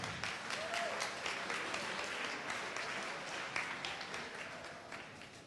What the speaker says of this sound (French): Bonne main d'applaudissement pour le Cégep Saint-Laurent.